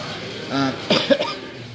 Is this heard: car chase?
no